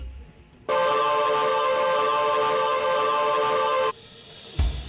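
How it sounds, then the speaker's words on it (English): A sudden, steady buzzy electronic tone rich in harmonics, an image-to-sound app rendering a simple line, starts, holds evenly for about three seconds, then stops abruptly, followed by a soft thump. "A simple shape, a line, is translated into sound like this."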